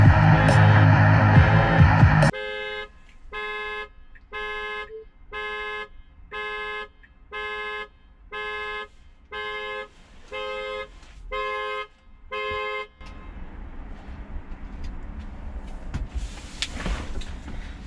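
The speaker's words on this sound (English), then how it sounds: "Once I push this door button, the alarm should go off." A car alarm blares in a loud, evenly pulsed pattern of about a dozen regular tonal bursts, set off by pressing a door button inside the car, before cutting out to quieter background noise.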